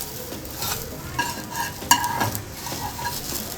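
An uthappam sizzles in a hot pan as it is flipped, a steady frying hiss with scraping and metallic clinks of the spatula against the pan, close and clear with no talking.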